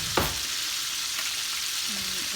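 KFC-style fried chicken pieces frying in hot oil, a steady, bright sizzle with brief scraping clatters from a utensil pressing them down.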